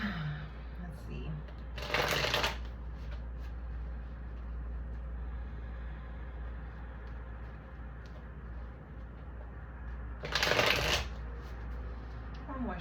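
Tarot cards are shuffled in two short, crisp riffling bursts separated by a long stretch of steady low background hum.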